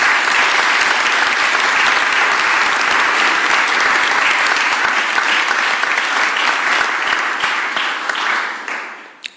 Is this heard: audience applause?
yes